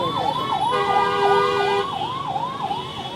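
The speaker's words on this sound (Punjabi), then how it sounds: "ਇਹ ਐਂਬੂਲੈਂਸ ਅੱਧੇ ਘੰਟੇ ਤੋਂ ਵੱਧ ਹੈ ਜਿਹੜੀ ਟ੍ਰੈਫਿਕ ਦੇ ਵਿੱਚ ਫਸੀ ਹੋਈ ਹੈ" An ambulance stuck in city traffic in Ludhiana wails with a loud, close siren in a rapid rising-and-falling yelp, while a steady horn tone sounds in the middle.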